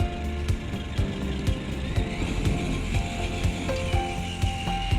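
A Traxxas Summit RC truck climbs a staircase with a continuous whining motor and gear drive, punctuated by repeated rhythmic clacks as the wheels bump up each step, fairly close and loud.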